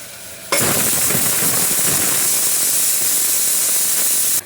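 Chopped onion and finely ground tomato hit a very hot pressure cooker, setting off a sudden loud hissing sizzle that begins abruptly and holds strong and steady for about four seconds.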